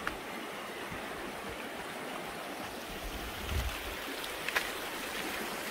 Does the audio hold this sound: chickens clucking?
no